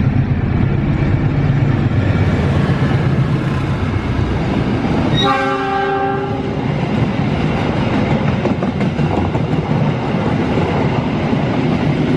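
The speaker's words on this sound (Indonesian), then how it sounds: "Kereta sudah muncul dan persiapan melintas di stasiun Cibatu di jalur 2." An inspection train (Kereta Api Inspeksi 3) passes Cibatu station on track 2 with a loud, continuous rumble of wheels on rail, broken by a short, blaring horn blast partway through.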